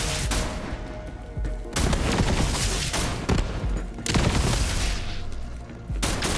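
A gun firing sticky bullets in Borderlands 3 lets off rapid, loud bursts of gunfire in several sustained volleys separated by short pauses, close and dense, with thuds mixed in.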